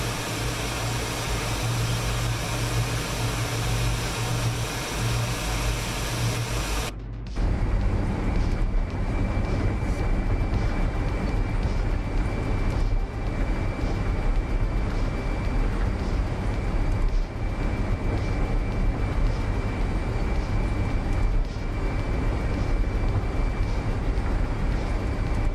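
Tristar L-1011 airliner engines in Microsoft Flight Simulator 2024 drone steadily with a broad roar and a high whine, heard from outside; the sound cuts briefly then resumes louder and holds constant.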